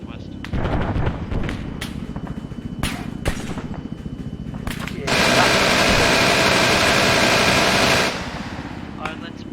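Gunfire in the war game Rising Storm: sharp, loud individual shots crack out in the first half, then a sustained burst of continuous heavy fire roars for several seconds before cutting off, with background game noise throughout.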